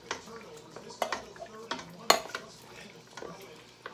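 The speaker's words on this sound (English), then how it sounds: "Give it a good stir." Diced tomatoes being stirred into chili in a pot, with scattered clinks and scraping of a utensil against the pot and a few sharper knocks, while someone talks.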